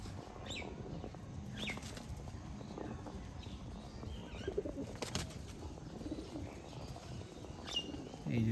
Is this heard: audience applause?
no